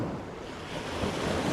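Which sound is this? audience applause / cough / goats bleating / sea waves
sea waves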